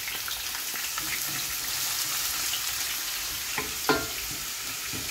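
A medium-sized onion frying in a pan for eggplant bhaji, a continuous close sizzle with occasional stirring scrapes and one louder clank near the end.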